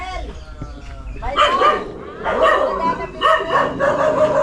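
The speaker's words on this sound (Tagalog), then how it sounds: "Aso. Malaki ng aso." A large dog barks in several loud, close bursts, with yelping and whimpering tones between them, while people talk nearby.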